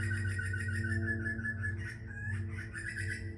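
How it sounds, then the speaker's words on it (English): A noisy bird calls in a repeated, rhythmic whistling pattern in the background over a steady low hum from a van interior. "noisy bird in the background"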